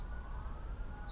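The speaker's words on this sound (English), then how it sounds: "there are sirens blaring in the background" Emergency sirens wail faintly in the distance behind a quiet room ambience, a thin steady tone under a low background rumble.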